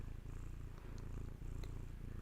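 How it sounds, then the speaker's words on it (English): A cat purring steadily and close up, a soft continuous rumble with a gentle rhythmic pulse of breaths, alone with no talking. "Let Hattie's purrs gently call you back to your body"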